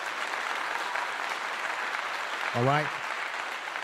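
A crowd claps steadily throughout, applauding a football player after a coach praises an outstanding practice play; someone briefly speaks near the end over the clapping.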